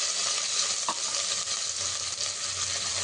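Sliced onions fry in a pan of hot oil with whole spices for Hyderabadi haleem, a continuous close sizzle with a light scrape of stirring partway through.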